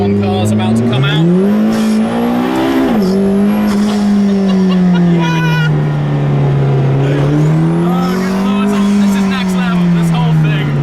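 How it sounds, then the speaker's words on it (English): A Formula 1 race car drives at a hill climb, its loud, close engine screaming in a sustained high pitch that rises and falls through gear changes, filling the whole stretch while people talk underneath. "F1 car's about to come out."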